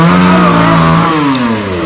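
A chainsaw cuts the top off a tall Sao tree standing near power lines. Its motor whines loud and steady, close by, and slowly drops in pitch as it bogs into the wood, with no voices.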